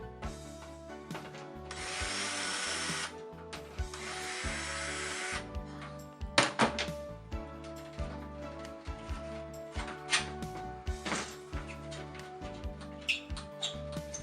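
A power drill backs out two screws while a fluorescent light fixture is installed, giving two sustained bursts of whirring followed by loose tapping and handling noises nearby.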